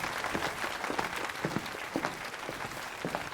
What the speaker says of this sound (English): They're still clapping back there.